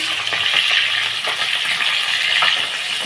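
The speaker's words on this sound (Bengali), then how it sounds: "মাছের মাথাটা দিয়ে দিয়েছি কড়াতে" A fish head crackles and sizzles in hot oil in a wok, a steady bright frying hiss with scattered pops and spatters, close and alone.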